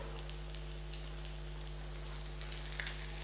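Crumb-coated fish frying in hot oil, giving a steady close sizzle with soft crackling pops throughout and no speech.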